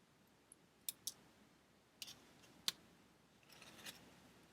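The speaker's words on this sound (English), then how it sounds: "So I'm going to cut this one out" Scissors snipping through paper to cut out a small piece, a handful of crisp, quiet, close-up clicks and snips spaced irregularly across a near-silent background.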